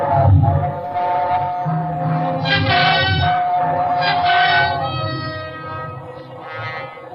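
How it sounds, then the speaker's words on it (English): A train roaring through a tunnel as a radio drama sound effect: a loud, sustained rumbling roar with shrill whistle-like tones swelling in waves across seven seconds, with no voices. "It was only the train going through the tunnel"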